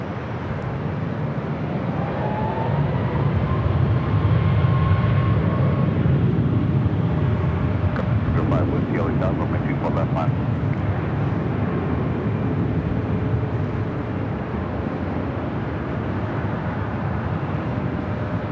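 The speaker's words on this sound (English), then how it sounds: "Next takeoff on 24 left here on the north side. Flight heading to Mexico City, flight 645 at 737 at max 9." An Aeromexico Boeing 737 MAX 9 takes off from runway 24 Left at LAX, bound for Mexico City. A steady, broad jet roar fills the whole stretch at a moderate distance, with no talk.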